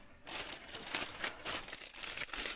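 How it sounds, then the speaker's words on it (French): Crinkly rustling of aluminium foil peeled off oven-baked chicken, a continuous close crumpling and crackling that keeps going without pause and without talk. "Voilà, on enlève le papier alu,"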